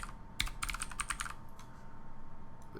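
Quick bursts of keystrokes on a computer keyboard, close and clear, a short run of clicks followed by quieter scattered taps against a low room hum.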